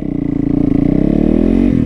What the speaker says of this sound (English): Oh boy, I love my supermoto. Gotta love that brat, brat, brat, baby.